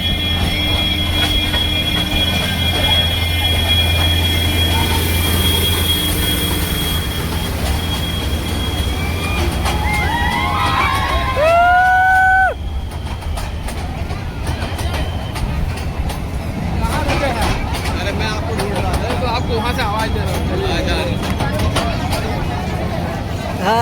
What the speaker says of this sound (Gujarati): જો ટ્રેન આવી ગઈ મિત્રો.